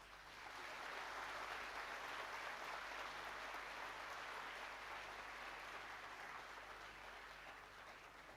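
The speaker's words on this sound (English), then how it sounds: "give them a whole huge round of applause" A large audience gives a long, sustained round of applause for dignitaries seated on the dais at a pre-departure ceremony for medical students, a dense even wash of clapping heard from a distance.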